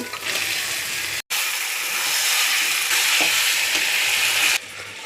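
Chicken goes into a pan of spices cooking down with a little water and sets off a loud, steady sizzle close by. The sizzle briefly cuts out once, then carries on with light stirring and no talk.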